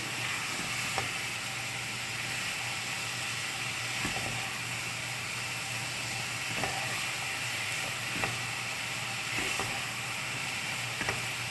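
Steady sizzling of quinoa sautéing in a pan with occasional scraping clicks of a utensil stirring, continuous and close, no talking.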